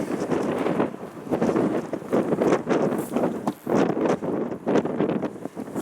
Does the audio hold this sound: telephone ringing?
no